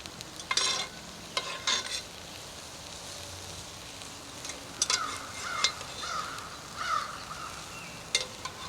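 A spoon stirs food frying in hot oil in a rustic log cabin kitchen, giving a steady soft sizzle with scraping and clinking strokes. There are no voices.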